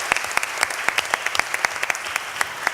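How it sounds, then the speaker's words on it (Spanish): An audience at a university event in Jalisco applauds, a moderate crowd clapping with distinct sharp claps popping out at an irregular rhythm, fairly close and without any speech over it. "Un aplauso para la UNIVER también."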